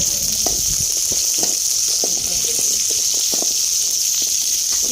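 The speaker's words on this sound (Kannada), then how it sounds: "ಈರುಳ್ಳಿನ ಹಾಕ್ಕೊಂಡು ಫ್ರೈ ಮಾಡ್ಕೋಬೇಕಾಗುತ್ತೆ" Onions fry in oil in a pan for country chicken curry, a loud, steady hiss with soft crackles and small stirring clicks throughout, with no voices.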